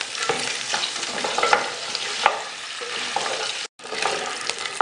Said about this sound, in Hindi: तो गोश्त को भूनते हैं, थोड़ा फ्राई करते हैं ऑयल में।